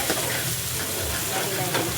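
Sayote (chayote) sizzles in a hot pan as it cooks, a dense steady frying hiss close up with faint stirring scrapes, and no clear speech over it.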